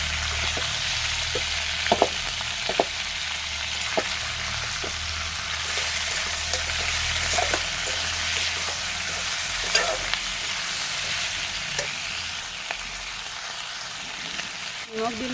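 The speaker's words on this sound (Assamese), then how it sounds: "এতিয়া লৰাই ভাজি ল'ম" Chicken pieces with chopped onion, green chili, cloves, cardamom and cinnamon stir-frying in a hot pan, a constant close sizzle broken by sharp scraping clicks of the spatula stirring.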